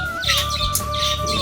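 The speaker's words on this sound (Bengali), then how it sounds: "7খানা পায়রা এসেছে আজকে নতুন বাড়িতে" Newly arrived pigeons at their new home make a steady run of chirping bird calls over a continuous tonal background hum, close and moderately loud throughout.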